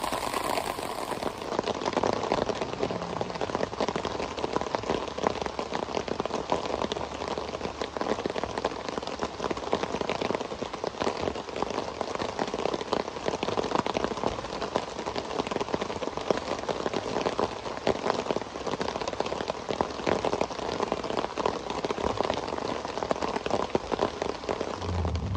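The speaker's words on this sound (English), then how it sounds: "All right, folks, so it's raining." Heavy rain falls steadily at a campsite, a dense, continuous hiss of drops pattering on surfaces that stays loud and unbroken throughout.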